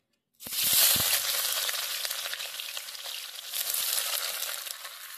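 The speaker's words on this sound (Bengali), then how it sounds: "পেঁয়াজগুলোকে ভালো করে মিনিট 2 ভেজে নেব।" Chopped onions dropped into hot mustard oil in a kadai, starting with a sudden loud hiss that settles into steady, close sizzling frying for several seconds, with no talk.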